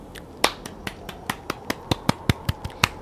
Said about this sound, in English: I'm giving myself a round of applause and a pat on the back